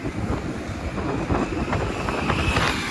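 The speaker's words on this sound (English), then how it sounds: "there's an express train" Express train rushing past near Weston station on Weston Road in Toronto, a loud, continuous roaring rumble with rhythmic clatter throughout, close by and steady.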